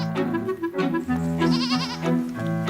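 Dairy ewes on a high alpine summer pasture above 1500 metres bleat loudly and close by, several overlapping wavering calls following one another with no talk.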